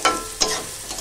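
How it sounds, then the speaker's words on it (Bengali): Carrots and beans fry in a pan, giving a soft sizzle with two quick stirring scrapes close by in a short burst. "আর এদিকে তোমার গাজর বিনসটা ভাজা হচ্ছে"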